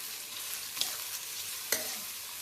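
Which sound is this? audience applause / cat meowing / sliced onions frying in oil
sliced onions frying in oil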